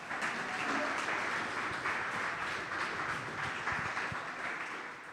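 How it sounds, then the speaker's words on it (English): Studio audience applause at a live sports talk show fills the room, a broad continuous patter of many clapping hands at moderate volume that holds steady and then tapers slightly near the end, with no talking. "Give them a big round of applause."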